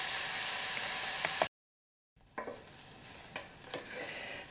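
Chopped onions cook in a pan for a tomato ragu, a steady hiss of frying with a few stirring clicks, interrupted by a short silent gap before the sizzle resumes.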